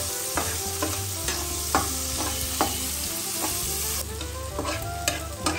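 Garlic and diced tomatoes frying in a pan for butter chicken, with a continuous close sizzle and regular scraping stir strokes against the pan.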